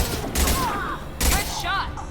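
Gunfire in the video game Mass Effect 2 breaks out in two short, dense bursts of shots, the second briefer than the first, with a voice speaking between and over them.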